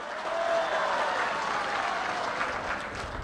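An audience at a political speech by Chief Minister Chandrababu Naidu breaks into a burst of clapping, a dense and even crackle of many hands that holds steady for a few seconds.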